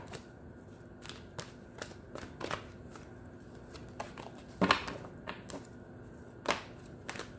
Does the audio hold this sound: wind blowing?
no